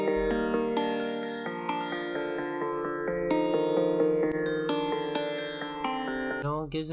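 A sliced synth loop with choppy, stepping notes and heavy echo-like effects, steady and loud throughout, glitching at the very end.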